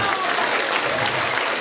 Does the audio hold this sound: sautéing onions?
no